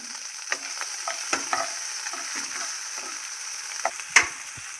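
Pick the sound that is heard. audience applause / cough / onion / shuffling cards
onion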